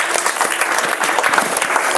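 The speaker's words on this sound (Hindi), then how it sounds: "कुमार के जोरदार ताली मारिएगा।" Dense, loud applause from a school crowd cheering student Pintu Kumar at a class 8th and 9th result celebration at Jharkhand Public Residential School, sustained clapping throughout with no talk.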